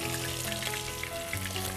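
Diced potatoes hit hot oil in a kadai for a home-cooked Bengali dish, giving a steady, close sizzle and crackle that runs the whole way through with no talking.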